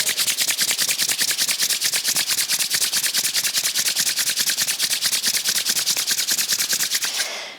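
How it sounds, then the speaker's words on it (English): Palms rubbing together briskly during a calm yoga flow, a steady, fast back-and-forth swishing that repeats evenly for several seconds, close and fairly loud, with no talking. "slowly just rubbing the hands together, creating some heat through the fingers"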